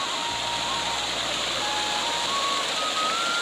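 Canal water rushes in a steady, broadband hiss that runs unbroken for the whole stretch in a village setting, with a faint tonal whine drifting above it.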